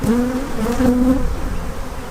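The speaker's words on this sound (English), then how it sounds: "We shook off a bunch of bees off the top" Steady, droning buzz of many honey bees close by at an open hive, continuous and loud with a wavering pitch, no voices.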